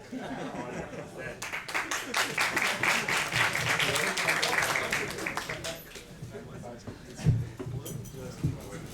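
An audience of yeshiva students applauds in a steady, fairly loud patter of clapping, with some chuckling and talk mixed in before the clapping fades and a few louder thumps stand out.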